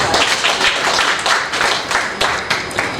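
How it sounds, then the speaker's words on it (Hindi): Audience clapping at a women poets' gathering, a dense, steady wash of many hands close by, with no voices over it. "एक बार ताली बजाकर दीजिए"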